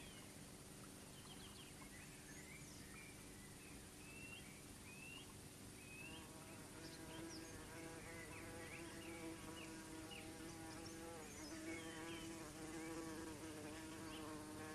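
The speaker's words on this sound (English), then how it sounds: "The first to begin nesting is the early humblebee." An early bumblebee buzzes in a low, continuous drone close by, its tone wavering, with scattered bird calls faint in the background.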